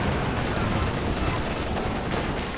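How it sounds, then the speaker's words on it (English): Heavy mortar and pack howitzer fire in Company of Heroes 2 rolls as a dense, continuous barrage of booming impacts and crackling gunfire, loud and unbroken throughout. "Looks like some more heavy mortar action. Maybe the pack howie."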